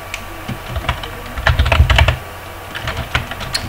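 Quick bursts of typing on a computer keyboard, close and crisp, with a denser flurry of keystrokes in the middle, while no one speaks.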